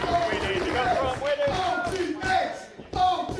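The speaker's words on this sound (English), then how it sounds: "OG Ace chant starting out in the crowd." A wrestling crowd at a Beyond Wrestling no-DQ match chants "Ace" for Joey Janela, a loud rhythmic shouted chant filling the hall, with a commentator talking over it.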